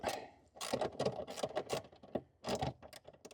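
Ratchet spanner undoing the captive 7/16 seat bolts in an MG B, heard close up as bursts of rapid metallic clicking with brief pauses between strokes, with no talking.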